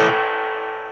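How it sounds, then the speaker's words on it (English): A single electric guitar note or chord rings out through a budget $100 amp with reverb turned up, struck sharply then decaying into a washy, smeared tail. "I don't love the sound of this reverb, and it does affect the tone"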